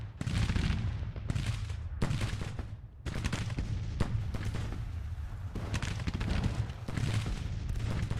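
Dense artillery and musket fire from a Civil War battle in the strategy game Grand Tactician, with overlapping volleys and booms rolling on without a break, loud and sustained throughout.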